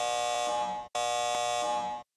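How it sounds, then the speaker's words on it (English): A synthesized alarm system activates in the Star Ocean video game, sounding as two loud, steady electronic buzzer tones with a short gap between them. "Activating alarm system."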